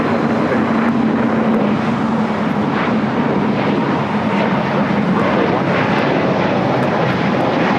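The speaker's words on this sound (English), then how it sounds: "A320 Neo taking off" An Airbus A320neo jet takes off from LAX, its engines a steady, loud broadband roar that holds throughout without letup.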